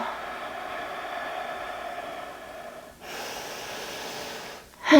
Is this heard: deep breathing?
yes